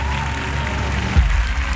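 An audience at a televised children's singing talent show breaks into loud, sustained applause that swells partway through and carries on as a dense wash of clapping, with no talking.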